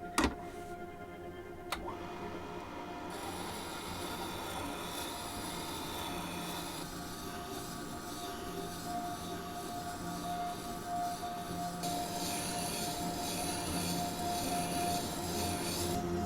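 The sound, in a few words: sharpening machine grinding a hand plane iron, coarse stone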